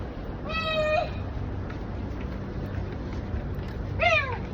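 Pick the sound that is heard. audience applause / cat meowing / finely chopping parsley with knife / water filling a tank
cat meowing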